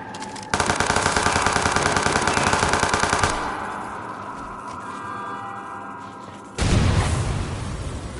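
Sustained rapid automatic AK rifle fire in Watch Dogs 2, a loud burst of about three seconds, then a quieter lull, then another loud burst near the end, with no talking.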